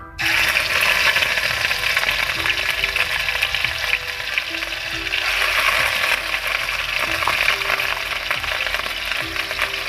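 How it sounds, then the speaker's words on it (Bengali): Chapila fish frying in a pan with onion paste, a loud steady sizzle that runs without a break, close up, with a faint tonal hum underneath. "আমি মাছ রান্নাটা বসিয়ে দিলাম এখন এতে আমি দিয়ে দিব পিঁয়াজ বাটা"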